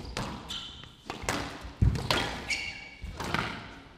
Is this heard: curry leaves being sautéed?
no